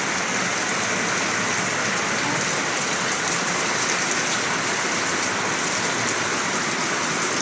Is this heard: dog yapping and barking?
no